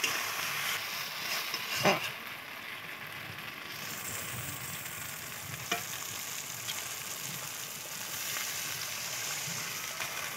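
Spice paste for a Bengali mustard-poppy bata fish curry sizzles and fries in oil in a pan, a steady hiss with a couple of sharp stirring clatters and no voices.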